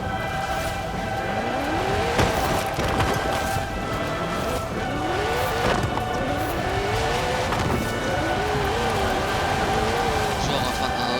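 A car in Forza Horizon 4 roars along with a loud, steady engine and rising and falling revs, and tire squeal comes through in places, under someone talking.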